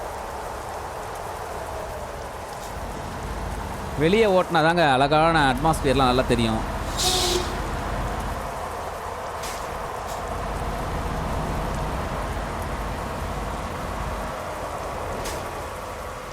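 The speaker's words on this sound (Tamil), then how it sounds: "நீங்கள் உள்ளே பார்த்தீங்கன்னா தெரியும் மழை" Rain in the Euro Truck Simulator 2 driving game, heard from the truck cab as a steady, moderate hiss that continues throughout while someone talks over it for part of the time.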